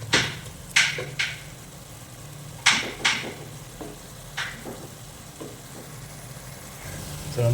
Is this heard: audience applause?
no